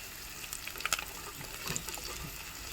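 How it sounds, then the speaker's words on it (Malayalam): Sliced onion, ginger, green chili and curry leaves sautéing in a pan for rural chicken varatti, a soft continuous sizzle with a few gentle stirring clicks, fairly quiet, no talking. "കറിവേപ്പിലയും നന്നായി സോട്ട് ചെയ്യണം."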